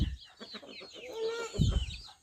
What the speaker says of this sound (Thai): มาเบิ่งไก่ไปนี่คุณ